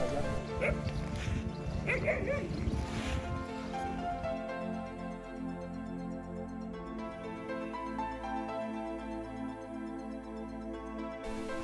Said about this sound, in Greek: και δύο πανέμορφα κουταβάκια.